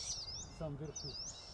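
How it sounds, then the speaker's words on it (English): Owl chicks in Siberia calling out to their mother as she perches nearby, high thin chirping cries repeating over faint background sound, with a short lower call in the middle. "The chicks immediately called out."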